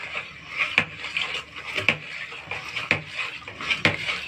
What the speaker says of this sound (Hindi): ये हमने फूड कलर इसमें डाल दिया है। अब हम इसको अच्छे से मिक्स करेंगे।